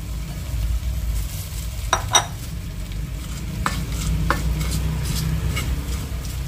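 Shallots are added to a pan of goat meat for an oseng stir-fry in the style of sate maranggi, sizzling steadily while a utensil scrapes and stirs, with a few light clinks against the pan and no speech.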